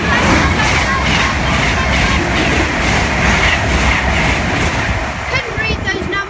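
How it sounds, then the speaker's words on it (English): A pair of Class 221 Voyager diesel trains runs past at Kings Langley on the West Coast Main Line, heading from Birmingham New Street to London Euston. It makes a loud, steady, close rumble with rail clatter throughout, and faint voices sit in the background. "it's a pair of 221s from Birmingham New Street to London Euston"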